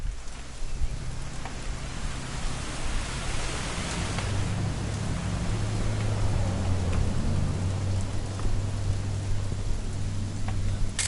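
Steady rain falls in the video game What Remains of Edith Finch, a dense, even hiss with a low rumbling hum beneath it, continuous and fairly loud with no voices.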